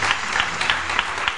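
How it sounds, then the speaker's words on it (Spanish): An audience applauds at a live show, a brief burst of dense, steady clapping with a slight rhythmic pulse, moderately loud and without voices over it. "Muy bien, fuerte el aplauso."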